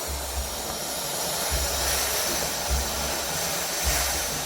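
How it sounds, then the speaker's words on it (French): A Polti Vaporetto SV440 steam cleaner releasing steam in a continuous loud hiss, with a few low thumps pulsing underneath, no talking. "Et voilà la vapeur."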